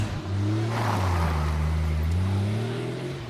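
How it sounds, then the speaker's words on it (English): A car engine running and revving, a steady droning hum that rises and falls in pitch, close and fairly loud, with no talking. "I'm surprised the engine kicked over, too."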